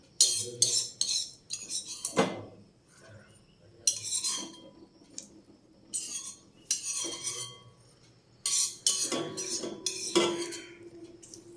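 A spoon clinks and scrapes against a metal pot while chickpea curry is stirred with spices and hot coconut oil, in repeated bursts of close metallic stirring with short pauses between.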